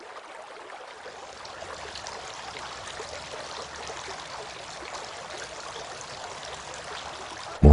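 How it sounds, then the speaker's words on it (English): Water pours steadily over hands during ablution, a continuous close splashing trickle that holds at an even level for several seconds with no voices. "poured water on his hands and washed them 3 times"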